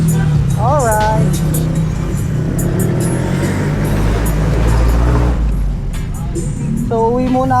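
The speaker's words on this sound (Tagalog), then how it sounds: "medyo traffic na dito at maingay" Noisy street traffic with a continuous roar of passing cars and engines, loud and close throughout, with horn-like tonal bursts near the start and end.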